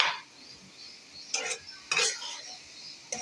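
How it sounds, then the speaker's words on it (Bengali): Vegetable noodles being stir-fried, with a quiet background hiss broken by a few short bursts of scraping and tossing in the pan, close and fairly soft, no talking. "এখন রান্না করছি, দেখতে পাচ্ছেন ভেজিটেবল নুডলস রান্না করছি।"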